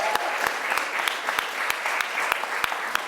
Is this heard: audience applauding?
yes